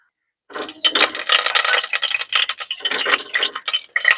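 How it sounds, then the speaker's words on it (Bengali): Black cumin (kalo jeera) seeds dropped into hot oil in a wok, bursting into a loud, crackling sizzle after a brief silence, popping and spitting unevenly close up with no talking. "ওই তেলে এবার কয়েকটা কালো জিরে ফোড়ন দিয়ে দেবো।"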